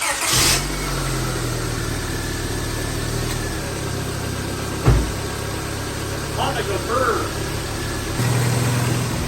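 A 1997 Honda Accord engine cranks and catches, then idles steadily nearby with a brief knock and a slight rev near the end, with a voice heard over it.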